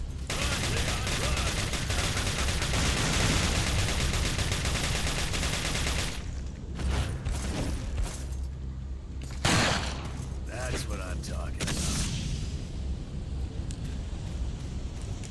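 Dense, loud gunfire from a magnum in Resident Evil 4 on PS4 fills the first six seconds, followed by scattered separate shots and game effects with a speaking voice.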